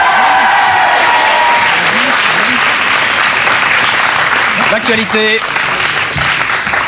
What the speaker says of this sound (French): On applaudit Herstal.